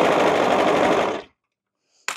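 An industrial sewing machine runs in one loud, steady stitching burst while the sewer stands at the pedal, then stops abruptly into silence before a brief clunk.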